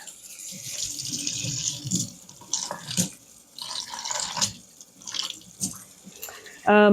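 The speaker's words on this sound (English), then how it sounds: "Okay, 600 grams warm water." Warm water poured for sourdough white bread dough runs in an uneven, splashy stream with brief pauses, close and moderately loud, while a voice speaks over it.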